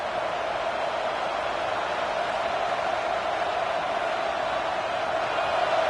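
A stadium crowd roars during a football video game, a dense, steady wash of cheering and noise that fills the space throughout, loud and unbroken.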